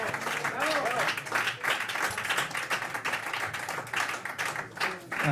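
An audience at a Recoletos jazz concert claps for the musician, the applause uneven and pulsing, with voices talking and calling out over it.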